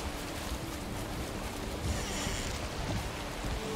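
Steady rain hiss in Valheim, a dense broadband wash that stays even throughout, with no voices over it.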